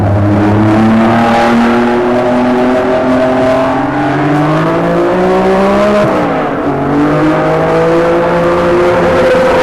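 A Honda Grand Prix race car driven by Richie Ginther, its loud engine whining with rising pitch through the gears, then dropping sharply at a shift or lift before climbing again, heard close and continuous.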